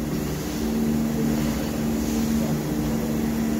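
Diesel engine of a 2004 Daewoo Lynx 210A excavator idling at 1900 RPM, a steady low hum with an even drone and no change in level, heard up close.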